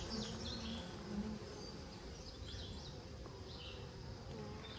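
Honeybees in a rescued hive hum in a steady, close, continuous buzz, with brief individual wingbeats rising above the drone, and no voices.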